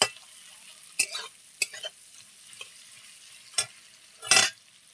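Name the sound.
onions frying in a pan until reddish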